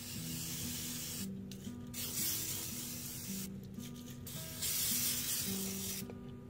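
An aerosol spray can sprays coating in a polymer clay rose project indoors, with several close hissing bursts separated by short pauses.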